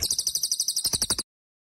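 Javanese cililin bird calling in short, harsh notes, a rapid run of about a dozen evenly spaced chirps delivered close and clear, ending abruptly.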